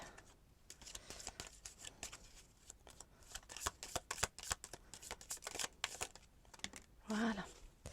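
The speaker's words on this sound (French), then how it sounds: "pendant que je range les cartes" Tarot deck shuffled and gathered up by hand, giving a run of quick riffling snaps and soft slaps, with brief card crinkles and a quiet voice talking in the background.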